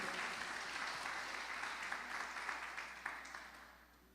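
A church congregation claps together in a continuous, moderately loud patter of many hands, fading slightly toward the end.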